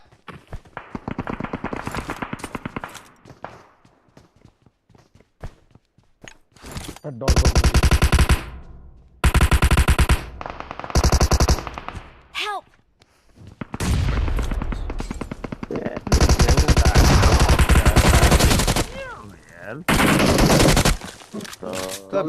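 Video game gunfire erupts in loud automatic bursts separated by pauses, with a voice talking during the quieter stretches.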